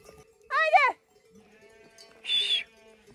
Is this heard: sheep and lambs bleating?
yes